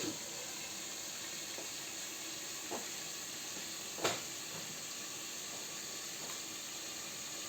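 About a litre and a half of water with a tablespoon of baking soda boils in a pot, giving a steady close hiss and sizzle with a few soft clicks and one brief louder knock.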